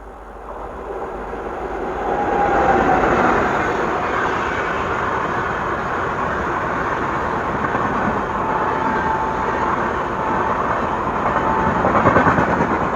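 The Sainagar Shirdi–Tirupati weekly express passes through Ghatkesar railway station at speed, a loud, steady roar of wheels and carriages that swells and holds for the whole stretch, with no one talking.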